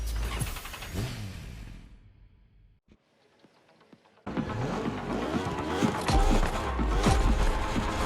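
A racing motorcycle engine revs in The Crew Motorfest during a Red Bull Speed Clash time attack, loud throttle surges fading into a near-silent gap before roaring back with sustained high revs.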